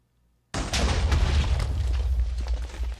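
A video game bow from the Better Bows mod fires an arrow. After a moment of silence comes a sudden loud booming burst with a rumbling tail that carries on for a couple of seconds.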